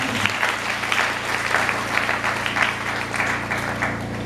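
A church congregation applauding during a fasting-day service, dense continuous clapping from many hands in a room, steady and fairly loud throughout, over a low steady hum.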